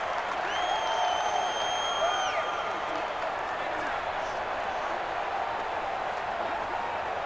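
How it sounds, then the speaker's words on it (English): Stadium crowd roar in the video game Madden NFL 20, during a Seahawks versus Jaguars matchup, a steady loud wash of cheering with whistle-like tones at home field, playing continuously under commentary. "The crowd's not doing that O-line any favors."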